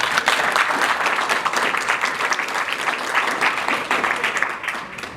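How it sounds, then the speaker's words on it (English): Sustained, dense applause fills a conference room as an audience at a workforce-planning session warmly claps for a presenter, steady and fairly loud for about five seconds before easing slightly at the end. "let's give a warm round of applause."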